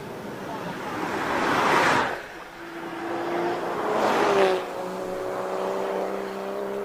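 Race car launching off the line at Simola Hillclimb, a loud roaring whoosh that swells and cuts away, then a second surge, with engine tones holding steady as it pulls away into the distance.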